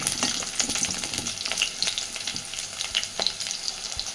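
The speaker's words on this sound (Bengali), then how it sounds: "কয়েক কোয়া রসুন আর কয়েকটা চেরা কাঁচা লঙ্কা। এটাও এবার তেলের মধ্যে দিয়ে দিচ্ছি।" Garlic cloves and slit green chilies fry in hot oil with a steady, close crackling sizzle and scattered pops, occasionally stirred, with no voices.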